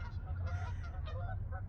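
Several Canada geese honk over and over in a noisy overlapping chorus at a lake, fairly close, with a low steady rumble underneath.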